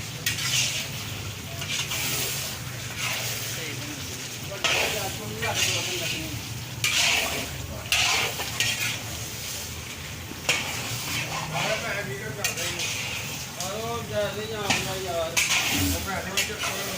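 Chicken karahi with ground dried coriander being stirred and fried in a wok, with steady sizzling and repeated scraping strokes of a ladle, close and fairly loud, while a voice talks at times.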